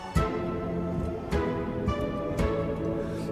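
Short plucked staccato string notes from Heavyocity Foundations Staccato Strings ring out into a long, washy reverb tail that lingers between hits, giving a spacious, cinematic sound.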